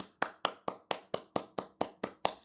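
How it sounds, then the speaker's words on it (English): Ten sharp, evenly spaced claps ring out one after another at a steady beat, close and distinct, as a workshop audience is led in applause. "Can we get a round of applause?"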